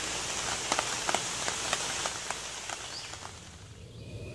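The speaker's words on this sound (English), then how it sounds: "the rain's getting pretty hard" Heavy rain falling outdoors in a wooded campsite, a dense steady patter with scattered sharper drops striking nearby surfaces, fairly quiet overall and easing slightly toward the end.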